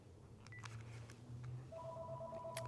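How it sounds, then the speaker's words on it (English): A telephone rings faintly in a quiet room, giving a few short electronic trills that shift into a steady two-tone ring near the end, with no talking over it. "let me shut that phone off"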